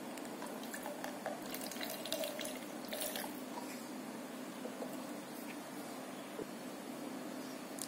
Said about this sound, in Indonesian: Kita tuang ke sini 41 mili.